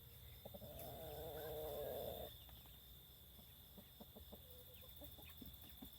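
Backyard chickens that roost in a tree near a pumpkin patch give a few soft, scattered clucks. A louder broadband rustle fills the first two seconds, and a faint steady hum runs underneath throughout.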